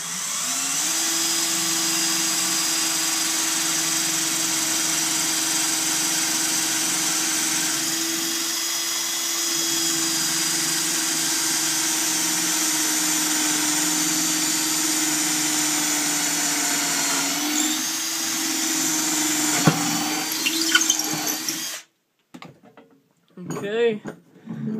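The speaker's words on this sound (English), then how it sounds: "You're going to drill right down through the center." Hand-held power drill boring down through the center of an olive wood pen blank, a steady loud whine with a constant pitch that holds for about twenty seconds before cutting off, followed by brief handling noises.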